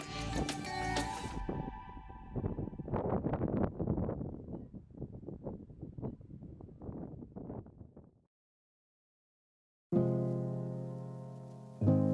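Gusty wind buffets the microphone at Lac de Bassias in rough, rumbling bursts, then drops to near silence before a louder burst of noise returns.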